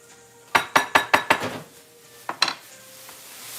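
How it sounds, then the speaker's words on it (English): Hard-boiled eggs and salad being stirred in a bowl: a quick run of five sharp clinks of a utensil against the dish, then two softer knocks a moment later, close and clear with no talk. "Stir that up nice."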